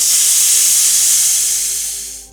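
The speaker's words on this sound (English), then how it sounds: "So now my steam is released." Steam hisses loudly and steadily from a pressure cooker being vented after cooking sambhar, then tapers off toward the end.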